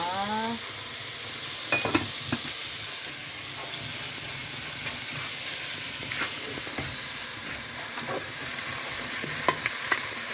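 Onion, garlic and chicken feet sizzle steadily in a hot pan while being stirred, with occasional scraping clinks of a utensil against the pan throughout.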